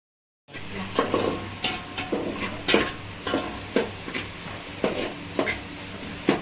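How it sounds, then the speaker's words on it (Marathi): Onion frying in a pan starts after a brief silence, then a soft sizzle runs under a regular pattern of sharp scrapes and taps as it is stirred, roughly once or twice a second. "आता आपण कांदा भाजून घेणार आहोत कांदा भाजतोय"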